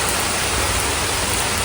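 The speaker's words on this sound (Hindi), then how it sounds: "तेज है बारिश।" Sudden heavy monsoon rain falls in a loud, unbroken roar of close-up downpour, steady with no gaps.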